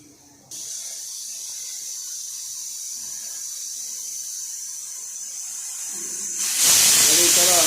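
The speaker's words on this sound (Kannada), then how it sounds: "ನೋಡಿ ಕುಕ್ಕರ್ ಕೂಗಿದಾಗಿದೆ." A pressure cooker, used while cooking cucumber sambar, vents a sustained high steam hiss that grows louder and ends in a sharp, intense whistle blast.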